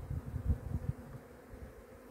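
Honey bees hum low and steady around an opened hive with five frames, a soft, faint buzz that swells in small pulses early on and then settles into a quieter drone.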